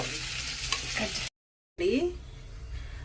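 Fish frying on a low flame in a pan makes a continuous sizzling hiss, briefly cut to silence, then resuming with a soft squeak and crackle, steady and moderately close.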